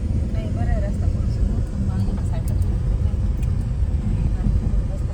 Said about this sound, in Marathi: ह्या कच्च्या रोडनं आम्हाला जावं लागतंय. आता जिथपर्यंत आमची गाडी जाईल तिथपर्यंत आम्ही गाडी नेणार आहे